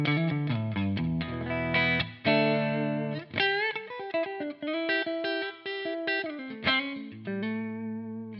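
Electric guitar in a clean tone through a Friedman-style amp model, played as a series of ringing chords and single notes with clear sustain, close and alone.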